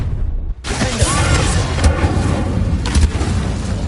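A blasting-spell explosion booms in the Hogwarts Legacy video game, one sharp onset followed by a long, loud roaring rumble with a few smaller thuds inside it.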